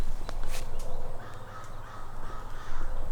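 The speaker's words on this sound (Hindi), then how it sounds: "सुबह से लगे हुए हैं काव काव" A whole flock of crows cawing loudly and close by at a lakeside campsite at Kwartha Lakes, Canada, with several harsh caws overlapping in quick succession.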